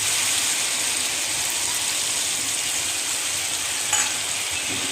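Hot water poured onto spices frying in oil for a vegetarian papad paneer curry gives a loud, steady, hissing sizzle that holds evenly throughout, close up with no talking.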